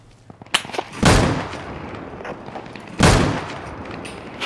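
Gunfire in the video game Deadside: two heavy, booming shots about two seconds apart, each with a long rumbling tail, over faint low background noise.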